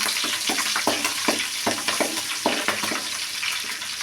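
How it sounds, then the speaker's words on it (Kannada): Garlic, cumin and pepper frying in a pan for tomato kichadi, a steady close sizzle with scraping stirs and clinks of a spoon against the pan recurring through the whole stretch. "ಬೆಳ್ಳುಳ್ಳಿ ಎಲ್ಲ ಹಾಕ್ತೀನಿ, ಜೀರಿಗೆ, ಮೆಣಸು ಸ್ವಲ್ಪ ಫ್ರೈ ಆಗಲಿ"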